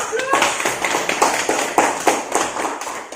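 A classroom of students claps together, producing a loose, rhythmic series of distinct hand claps and taps at close range, with faint voices mixed in.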